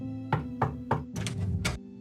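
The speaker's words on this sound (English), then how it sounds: "When Rod does not open the door, I knock again." Knocking on a door in the visual novel game Cinderella Phenomenon: five firm knocks, three evenly spaced and then a quicker pair, close and clear with a low hum underneath.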